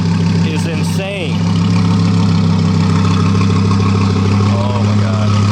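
A 500-plus horsepower two-seater sports car idles with a deep, steady rumble close by, a brief blip near the start and people talking over it.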